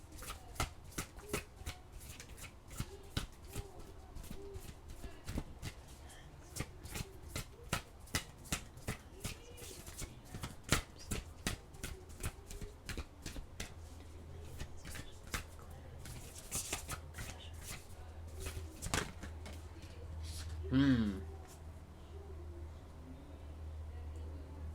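Oracle cards shuffled by hand, a long run of quick, crisp riffling ticks and soft flutters close by, with a faint low hum underneath and a brief murmur near the end.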